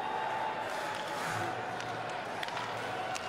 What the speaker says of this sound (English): Nigel Dawes from Winnipeg has a huge contingent here cheering for him